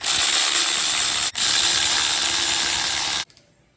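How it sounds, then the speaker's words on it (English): A ratchet wrench buzzes loud and continuous, close by, while a 5.0 V8 is being dismantled. There is a brief break near the middle, and it cuts off abruptly, leaving faint clicks. "You broke the fucking ratchet."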